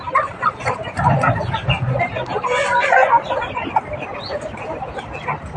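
Fighting cocks at a farm clucking and crowing in bursts, close and fairly loud, with other fowl calls and a person talking among them.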